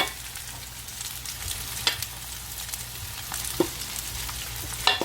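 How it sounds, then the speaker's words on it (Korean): A wild chive and oyster pancake fries in a pan, giving a steady soft sizzle and crackle with occasional sharper pops, heard close and alone. "전이 지글지글 굽고 있습니다."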